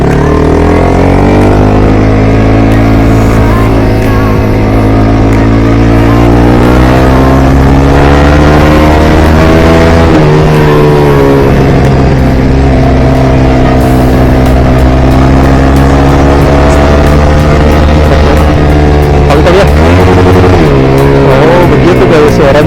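A Yamaha R15 V4 motorcycle fitted with a Tridente exhaust runs loud and close with a deep, steady exhaust note, swelling into revs around the middle and again near the end.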